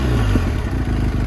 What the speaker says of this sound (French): Quand je vais démarrer la moto.